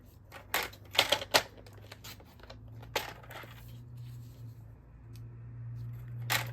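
Scissors snipping through red patterned craft paper for a pinwheel card, a quick burst of crisp close cuts followed by a few more sparse snips over a low background hum.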